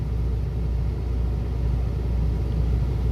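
Road traffic rumbles past on both sides of a car crawling at about 30 mph in stop-and-go traffic in Dallas, Texas. It is a steady, low, moderately loud engine drone heard from inside the car, with no talking.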